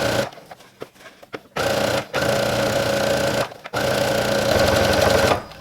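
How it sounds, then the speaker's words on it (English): A domestic sewing machine stitches across the top edge of a skirt for a waist apron, running in loud steady bursts with brief pauses between, close up and without talk. "So I'll sew across the whole top of the skirt"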